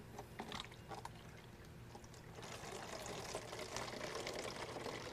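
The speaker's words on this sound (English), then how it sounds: "take your empty distilled water jug and fill it halfway up with the peak antifreeze" Peak antifreeze is poured from its container into an empty distilled water jug, a faint, steady liquid glug and trickle up close that grows fuller and more continuous as the pour goes on.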